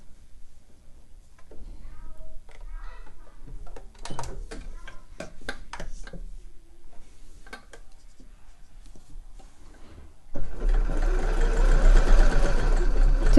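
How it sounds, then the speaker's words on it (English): A sewing machine stitches slipper boot lining with a one-centimetre seam, a steady mechanical whir with faint ticking, growing louder and denser in the final seconds, close and without talk. "we're going to just sew that on. One cm seam allowance."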